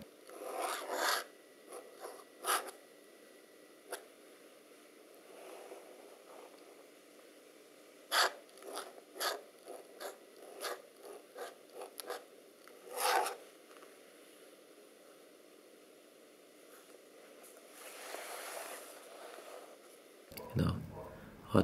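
A fountain pen nib writing on paper makes soft, close scratches in short irregular strokes with pauses between, faint and intimate, while a voice talks in the background at times.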